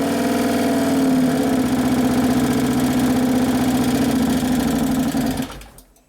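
2011 Harley-Davidson Road Glide twin cam engine idling after starting, a loud, close, steady low rumbling thump with mechanical ticking, then the engine shuts off and fades out at the end.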